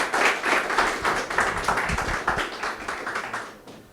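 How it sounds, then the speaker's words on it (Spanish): Audience applause after a speaker's talk at a law conference session on an EU free trade agreement, steady rapid clapping from a room of people for about four seconds, tapering off at the end. "Un aplauso para nuestro"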